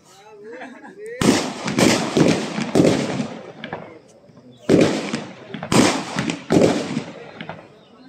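NCC cadets fire live rifles outdoors in about six sharp, loud cracks with echoing tails, spaced roughly a second or more apart, while people talk nearby between the shots.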